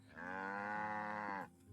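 A single long cow moo from the Farthest Frontier video game, steady and fairly loud, sounding alone with no talk, ending in a brief quieter tail.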